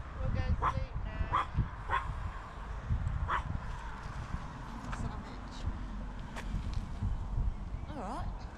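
A dog barks and yips in short bursts close by, with people talking over and between the barks.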